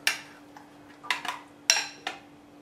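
A salad is tossed in a bowl, producing a handful of separate clinks and scrapes of utensils against the dish, close by and isolated, over a faint steady hum.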